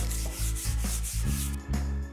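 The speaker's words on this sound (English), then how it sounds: "use a new piece of the same sandpaper and lightly sand all the walls" Rhythmic back-and-forth rubbing of sandpaper against a wall, close and steady, several quick strokes in a row with no talking.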